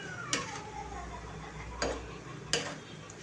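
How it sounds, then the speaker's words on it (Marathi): A spoon scrapes and stirs a thick gram flour curry in a pan, three distinct scraping strokes spaced apart over a low steady kitchen hum. "आता हे पूर्ण पाणी ना आपण मिक्स करायचं आहे आपल्या पिठल्यामध्ये छान असं."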